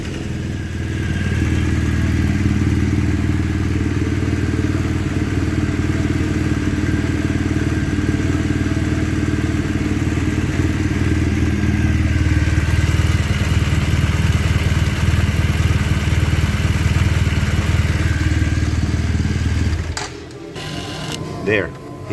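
A 2019 BMW R1200 GS boxer engine idles steadily close by, with a broken exhaust servo replaced by an eliminator; the low even rumble runs for about twenty seconds before cutting off with a few clicks.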